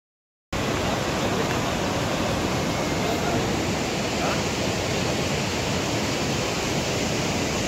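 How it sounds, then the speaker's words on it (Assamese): Water pours past a dam in Bhutan in a loud, continuous, even rush that starts abruptly after a brief silence and holds steady to the end. "এইফালে চাওক পূৰা পানী বৈ আহিছে"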